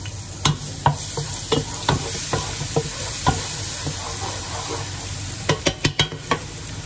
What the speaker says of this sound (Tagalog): lalagyan po natin siya ng garlic, mga 2 tablespoon. Then sasete po natin ito.